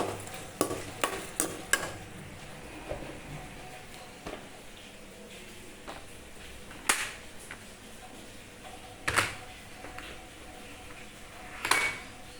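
Onions sautéing in a pan, with intermittent stirring scrapes and clicks standing out over a quiet, low sizzle at close range.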